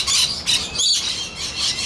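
Colorful birds at a zoo feeding exhibit squawk loudly and shrilly in repeated overlapping calls. The calls come from close by and continue without pause, with no talking over them.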